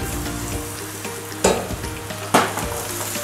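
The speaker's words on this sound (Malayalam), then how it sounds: "അതിലോട്ട് നമുക്ക് കുറച്ച് ഓയിൽ ഒഴിച്ച് കൊടുക്കാം. കുറച്ച് ഗാർലിക് ഒനിയൻ ചോപ്പ് ചെയ്ത് വെച്ചിട്ടുണ്ട്. അത് രണ്ടിട്ട് കൊടുക്കാം." Chopped garlic and onion hit hot oil in a pan with a steady close sizzle and frying crackle, two sharper bursts as more goes in, with light stirring and no talking.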